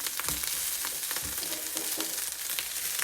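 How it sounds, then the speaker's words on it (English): Rice is stirred in a hot pan, with a steady sizzle and repeated scraping strokes of a utensil in an even rhythm. The sound is close and continuous, with no voices. "you just want to stir that up for a while until it's hot"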